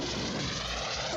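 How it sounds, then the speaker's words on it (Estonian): A propeller airplane drones steadily and loudly throughout, a continuous engine hum with no break, used as a sound to guess in a children's game. "Jah, see oli lennuki heli."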